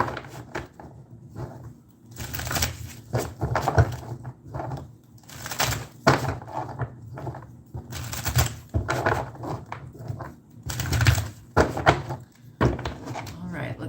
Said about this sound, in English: let me get a couple of good shuffles for you